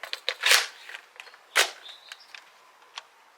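A Dart Zone Pro MK 2.1 foam dart blaster fires Pro darts, making two sharp, loud snapping bursts about a second apart amid lighter clicks and handling noises.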